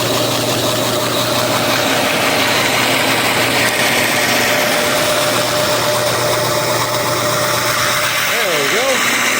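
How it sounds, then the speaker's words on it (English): A Harbor Freight belt sander's electric motor runs in reverse, a loud steady hum with a strong low drone and broadband whir that holds throughout, slightly wavering near the end as it struggles to reach speed. "It spins the other way, but it doesn't reliably get up to speed enough to trigger the centrifugal switch"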